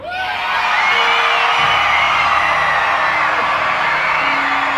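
A large convention crowd at MINECON 2016 screams, whoops and cheers loudly and steadily in a big hall, a dense roar of many voices that rises quickly at the start and holds at full strength.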